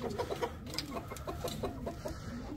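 Several chickens cluck in a busy, overlapping chorus as they are let out of their coop, close by and steady throughout, with no talking.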